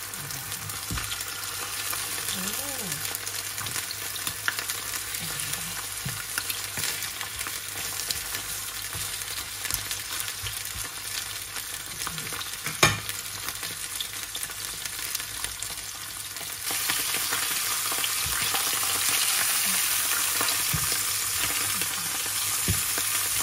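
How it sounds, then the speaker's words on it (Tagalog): Fish sizzles and crackles steadily in hot oil, close by, with occasional pops and a brief stirring scrape, no talking. "ipiprito lang natin ng konti itong isda"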